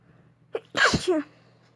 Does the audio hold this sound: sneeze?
yes